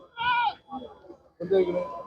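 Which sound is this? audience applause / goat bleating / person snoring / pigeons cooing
goat bleating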